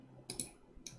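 A computer mouse clicks twice in quick succession and then once more, sharp faint ticks close up against a quiet background.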